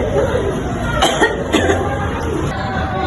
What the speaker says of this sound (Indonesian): condongkan badan Mbak ke depan dan batuk sekuat tenaga